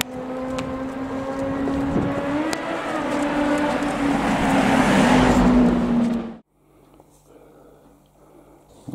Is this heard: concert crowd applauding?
no